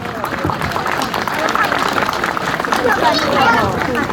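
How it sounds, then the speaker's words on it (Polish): A crowd gives continuous applause for a rural housewives' association at a St Nicholas Day event in Warka's town square, a dense steady wash of clapping mixed with crowd babble throughout. "brawa, proszę Państwa"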